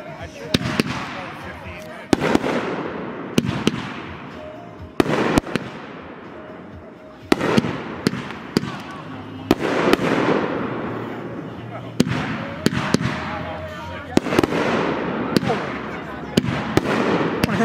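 Fireworks exploding outdoors in South Londonderry, Vermont: repeated loud, sharp booms and crackling bursts at irregular intervals with rolling echoes, people talking in between.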